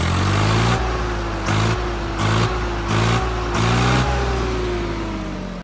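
A Swaraj 100 HP tractor engine, not yet fitted with a turbo, runs loud and close, its deep tone climbing and dropping as the throttle is blipped in several short repeated bursts, with no talk.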